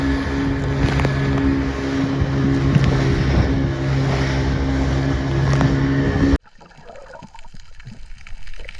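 Motorboat ride off Nusa Penida, Bali: a loud, steady engine drone with wind and water rush runs without a break, then cuts off abruptly near the end, leaving quieter wind and water.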